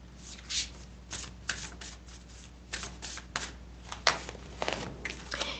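Stiff new playing cards being shuffled, a series of crisp riffling bursts and flicks in an uneven rhythm, close and fairly quiet.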